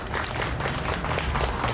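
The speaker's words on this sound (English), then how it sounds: "Can we give Shema a round of applause" An audience at a concert and book launch applauds Shema, a short, dense burst of many hands clapping, heard alone.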